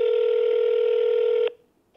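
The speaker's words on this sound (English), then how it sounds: "Welcome to Yosemite National Park's phone menu." A steady electronic telephone tone on the Yosemite National Park phone line sounds loud and unbroken for about a second and a half, then cuts off abruptly into near silence.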